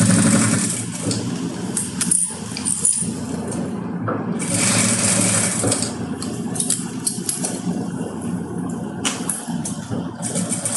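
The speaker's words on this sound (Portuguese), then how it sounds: "Encaixo aqui, pezinho de máquina, o pezinho está encostado no meu tecido, inicio dando retrocesso e vou passar toda a costura" A home sewing machine runs a full seam through synthetic fabric for a handbag organizer, starting with a backstitch, giving a steady, close mechanical whir with small shifts in pitch and brief pauses.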